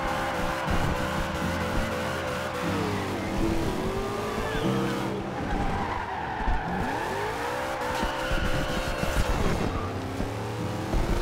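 A Dodge car driven in Forza Horizon 2 from the Furious 7 car pack, its engine roaring continuously with shifting revs and tire squeal, loud and close throughout.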